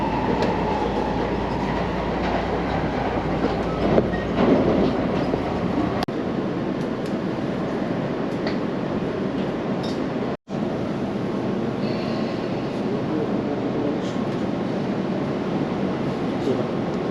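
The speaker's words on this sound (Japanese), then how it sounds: "次は2番乗り場の電車、普通館林行きの電車に、乗車したいと思います。" A JR local train bound for Tatebayashi runs along a Japanese railway line, with a continuous rumbling roll and clickety wheel noise from up close, with voices faintly present beneath the running sound and a brief dropout partway through.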